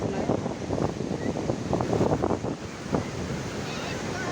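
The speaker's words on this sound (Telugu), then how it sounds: "చూసుకోవచ్చు బీచ్లోని కిరటాలు ఎంత పెద్దగా వస్తున్నాయి" Big waves surging and breaking at a busy beach beside the Velankanni church in Nagapattinam, a steady close roar of surf with wind buffeting the microphone and faint crowd voices underneath.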